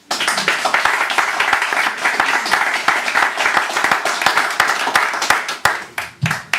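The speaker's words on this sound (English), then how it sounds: "More applause, please, for the excellent Alison Lynch." An audience at a poetry reading gives a performer loud, dense, continuous applause, many hands clapping close together throughout and thinning only slightly near the end.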